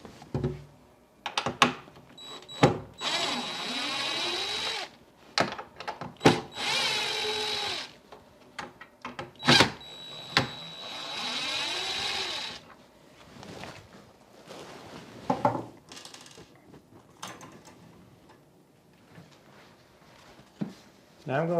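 A cordless power drill whirs in short, repeated bursts backing screws out of a sticking door's top hinge, close and loud, pausing between screws as a person speaks in the gaps.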